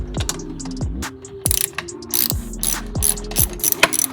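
A hand ratchet loosens 5/16 hose clamps on a 2020 Jeep Grand Cherokee throttle body, a close, crisp series of rapid clicking pawl sweeps repeating in short strokes, loud and without talk.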